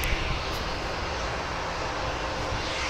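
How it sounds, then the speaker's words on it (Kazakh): An airplane flies low over a beach, its engine a loud, steady roar that fills the whole stretch with no break, and no voices over it. "Әні алда бір ұшақ ұшып келе жатыр."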